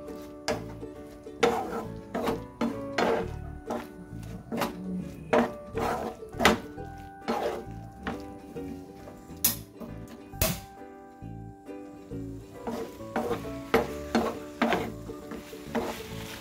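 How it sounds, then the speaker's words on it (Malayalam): Oats stirred into a homemade children's snack mixture in a pan: repeated scraping and knocking strokes at a steady, uneven rhythm, close and fairly loud, with faint sizzling beneath and no talking. "ഓട്സ് ഇട്ട് കൊടുക്കുകയാണ് ഇതിൻ്റെ മുകളിലേക്ക്. ഇളക്കി കൊടുക്കാം."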